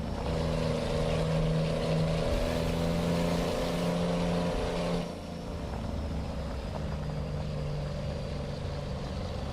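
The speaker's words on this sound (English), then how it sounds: "I love this truck. This is a cool truck." A Pitster 389 truck engine in Waco, Texas, gives a steady, loud, low drone with a humming tone that eases slightly about halfway through and then holds level, with no voices.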